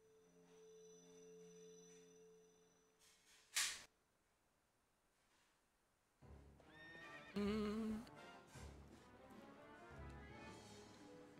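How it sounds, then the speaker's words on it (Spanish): Horses neighing during a horseback battle in the video game Zelda Twilight Princess, a sharp whinny midway followed by loud game action with further whinnies and clip-clop, after a quiet tonal passage. "Venga, batalla a caballo."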